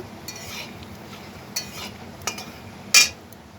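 A spoon stirs whole garam masala with dried chilli and a torn bay leaf in a cooking pan: a few sparse, light scrapes and clinks, the last one sharper, over a quiet background.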